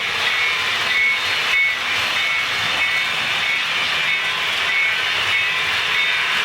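A continuous rumbling, clattering rail sound of a model train with a BNSF locomotive rolling steadily along the track, with no pauses and no speech.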